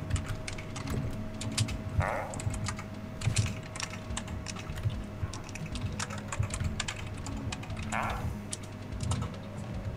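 Fast, continuous typing on a computer keyboard while a Minecraft server game is played, with dense clicky keystrokes and a few louder clacks throughout, under faint background sound and occasional noise.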